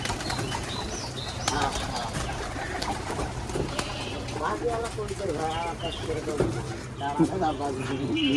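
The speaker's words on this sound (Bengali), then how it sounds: "চলে আসবে কবুতর এখন" Giribaz pigeons cooing at a loft, soft repeated coos and a few wing flutters mixed with outdoor background noise and people talking nearby.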